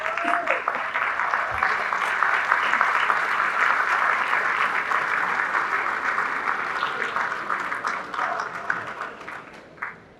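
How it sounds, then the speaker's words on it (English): Sustained applause from a large graduation audience honoring students, steady and full across the whole stretch, tapering slightly at the end. "Let's give again all these students another round of applause."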